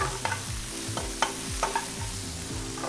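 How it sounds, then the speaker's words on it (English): Onions sautéing in a pan for a beef burger, a steady close sizzle with a utensil stirring and tapping the pan in a regular rhythm of soft scrapes and clicks. "Let them saute for like 3 minutes."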